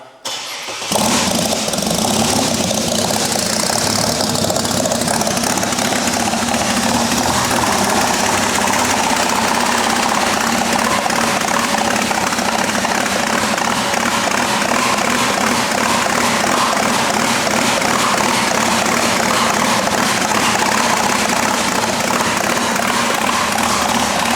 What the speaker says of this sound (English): I'll give you guys a quick little cold start here, and we'll get it lumping